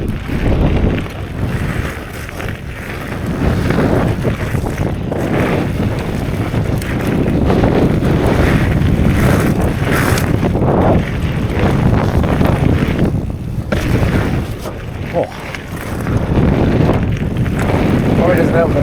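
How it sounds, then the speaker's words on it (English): Strong wind buffets the microphone outdoors on a Lake District mountain bike trail, a loud, continuous rumbling roar with brief lulls and faint speech beneath. "Probably doesn't help that it's really windy as well."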